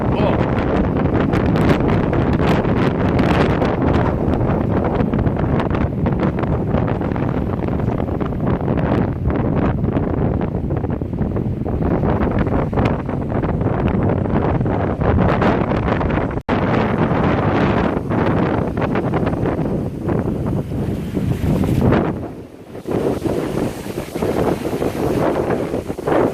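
Stormy sea at São Martinho, with strong wind buffeting the microphone and heavy waves roaring continuously and loudly, briefly dipping near the end.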